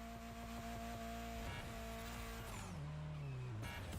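A Drift Queen Lancer Evo 6 drifting at an airport in The Crew Motorfest, engine droning steadily with tonal tire squeal that slides downward near the end, loud and continuous with no talk.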